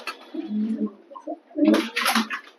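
A Chennai-breed pigeon gives a low, soft cooing call close by, followed by louder, scratchier fluttering and rustling.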